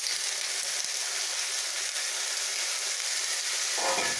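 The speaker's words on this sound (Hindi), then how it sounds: "अब हम इसमें डाल देंगे फ्रेंच बीन्स" French beans frying in a pan with tomato and onion for a beans and onion sabzi, producing a continuous close hiss and sizzle with faint stirring, ending in a brief louder burst.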